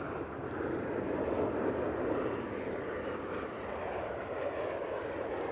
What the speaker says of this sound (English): This is the Sun Express now arriving.